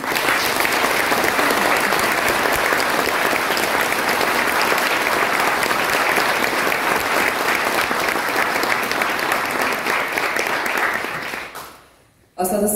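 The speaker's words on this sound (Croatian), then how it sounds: "pa vas molim da je pozdravite jednim velikim pljeskom" A cinema audience at the premiere of the film Plavi kaputić gives long, loud, sustained applause. The clapping stays dense for about eleven seconds, then fades abruptly and stops.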